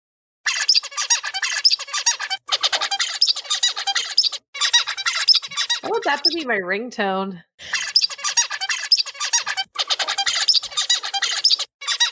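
Zebra finches give rapid bursts of bright, nasal squawking calls in close succession, with a short break where a person speaks and playfully mimics the calls.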